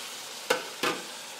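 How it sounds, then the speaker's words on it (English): Vegetables dropped into a pot of frying onions give two short bursts of sizzling and clatter, close by, over a faint steady background with no talking. "Now you want to go ahead and add the pepper and the tomatoes."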